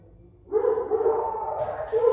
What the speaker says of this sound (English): My dogs are being so loud today.